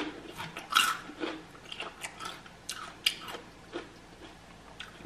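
Someone eats a cream cheese and jalapeno snack up close, making a quiet series of irregular bites, crunches and wet chewing sounds with short pauses and no talk.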